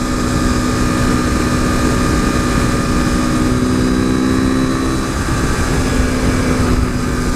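Modded 2015 KTM RC 390 motorcycle engine drones loudly and close, a steady humming tone that shifts pitch slightly midway as the rider changes speed, with no talk.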